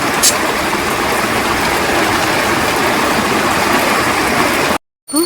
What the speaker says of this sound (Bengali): ভালোই জোরে বৃষ্টি হচ্ছে কিন্তু আমি দুদিন ধরে বলছিলাম পুজোর সময় বৃষ্টি হবে বৃষ্টি হবে এই যে বৃষ্টি শুরু হলো